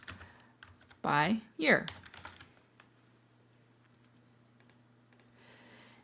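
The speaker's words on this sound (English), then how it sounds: "I'll start typing sales" Keys tap quietly and steadily on a computer keyboard as a title is typed, with a short burst of speech near the start and faint clicks scattered across the rest.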